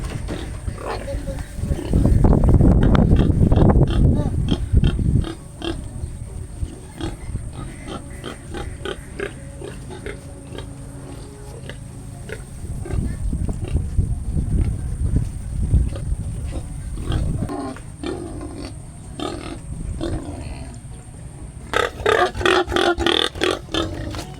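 A sow named Amelia grunts and squeals loudly while being led by a rope into her pen, bursts of loud pig noise with people talking over the commotion.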